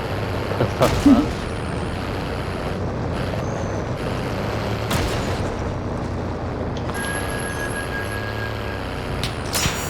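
A truck in a multiplayer shooter, a low engine rumble with a sharp air-brake hiss and a few thumps early on, running under ongoing chatter from players.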